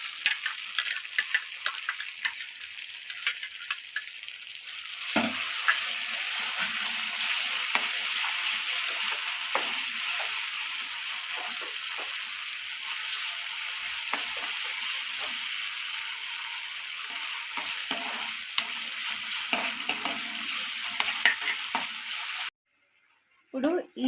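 A small tomato frying in oil with ginger paste for homemade street-style pani puri gives a steady broadband sizzle with occasional stirring scrapes, continuous for most of the clip before cutting out near the end.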